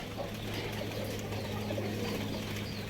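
A pigeon coos softly against a steady background hum, with low, repeated murmuring calls and faint rustling nearby.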